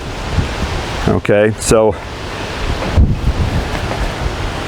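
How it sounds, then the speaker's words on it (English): Steady, roaring wind of about 30 miles an hour buffets the microphone throughout, with a person speaking briefly over it partway through. "It is a real windy day today. The wind's blowing about 30 miles an hour."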